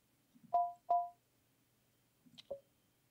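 A smartphone powering on by itself inside the horror game Simulacra 2, heard as two short electronic tones in quick succession, then a pause and a higher blip with a fainter final tone, alone and fairly quiet.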